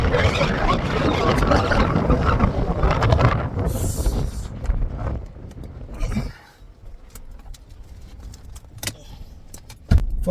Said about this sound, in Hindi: मैं हूँ फतुला टॉप पे, बहुत तेज हवा चल रही है